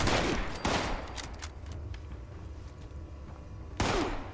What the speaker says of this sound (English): They shoot so fast.